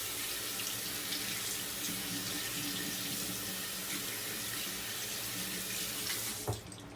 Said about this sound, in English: Give that a little rinse under water.